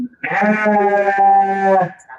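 A goat on a livestock farm gives one long, loud, wavering bleat lasting nearly two seconds, close to the microphone and heard clearly on its own.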